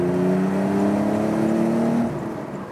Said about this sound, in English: And now acceleration, for example, in third gear to 100 with the sound activated.